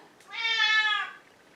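A house cat gives a single clear, drawn-out meow lasting about a second, close and alone in a quiet room.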